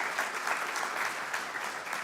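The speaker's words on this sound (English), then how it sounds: "Can we just give a round of applause to Dr. Lau" Audience applause for a guest speaker at a Q&A session, a steady, dense clapping from a seated crowd that holds at an even level throughout the short stretch.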